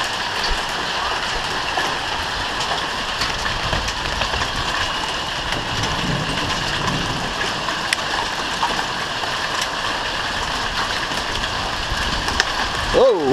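Hailstones pelting down through tree branches and leaves, a constant dense rattling hiss close by with scattered sharper hits, and a voice reacting at the very end.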